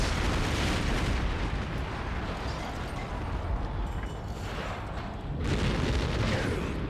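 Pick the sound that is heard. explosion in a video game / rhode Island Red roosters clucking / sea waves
explosion in a video game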